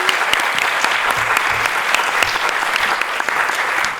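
Audience applause greeting author Kiran Millwood Hargrave as she arrives at a talk, a dense, steady clapping from a crowd that carries evenly through without voices.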